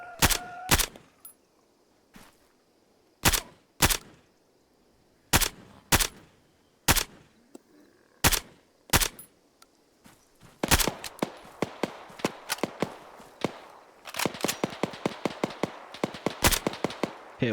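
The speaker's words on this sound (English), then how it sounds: "Heard gunshots." Gunfire in the video game Arma 3, a winter zombie-apocalypse setting: spaced single sharp shots at first, then a denser run of rapid cracking rounds, loud and fairly close.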